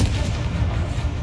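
A Confringo explosion spell goes off in the Hogwarts Legacy video game, a loud, dense blast with heavy low rumble that fills the whole short moment without pause.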